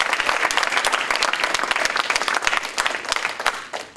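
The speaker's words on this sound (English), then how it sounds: "So can we have a hand clap for the boys?" Audience at a Cub Scout pack Blue and Gold banquet clapping for the boys, a dense, steady round of applause close by that tapers slightly near the end.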